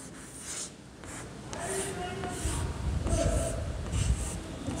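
Pen or pencil scratches on paper during a Hindi lesson for young children, repeated close rubbing strokes in short bursts with faint voices in the background.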